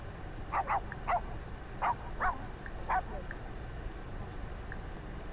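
Dog barking in The Sims game: a run of short, sharp barks and yips in uneven pairs over a steady low background hum, fairly close and moderately loud.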